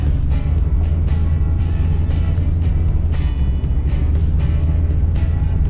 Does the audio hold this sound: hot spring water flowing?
no